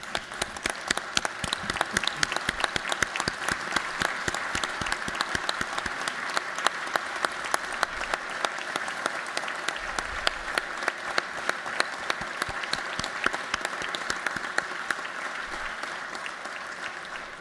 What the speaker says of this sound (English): give them a round of applause and have them stand